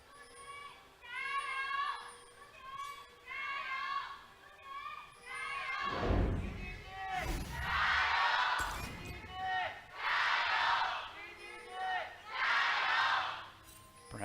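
EDG fans in an LPL esports arena roar in loud, surging waves of cheering and chanting. A commentator talks briefly before the crowd noise swells.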